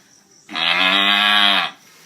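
A man imitates a cow mooing with his voice, producing one loud, sustained low moo of about a second that starts abruptly and fades out, with no other sounds around it.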